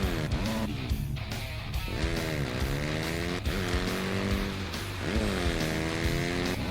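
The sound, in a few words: motorcycle riding in the video game MX vs. ATV Reflex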